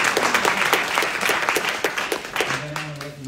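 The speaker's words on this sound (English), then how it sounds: "can we give them a round of applause?" Audience applause at a homeownership seminar honoring alumni, a dense burst of clapping that fades as a speaker's voice enters near the end.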